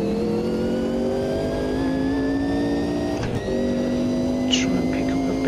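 An older race car's engine in the Automobilista 2 racing game drones loudly and steadily, its pitch climbing smoothly with a brief shift dip partway through, while someone talks over it.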